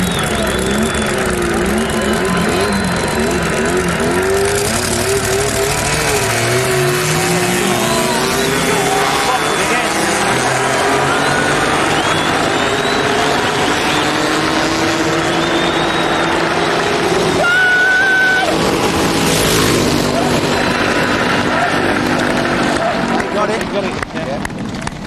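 A dragster launches and roars down the drag strip as the clutch is cut, with loud sustained engine noise rising in pitch throughout and no pause.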